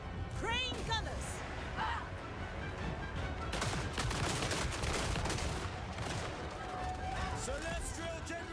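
Rapid gunfire volleys from crane gunner units in a battle video game, dense crackling shots layered over shouted voices and battlefield noise.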